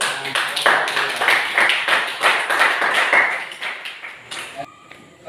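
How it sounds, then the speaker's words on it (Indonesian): Classroom applause after a student group's presentation, a run of many hands clapping at moderate loudness over about five seconds, tapering toward the end. "Kita beri tepuk tangan."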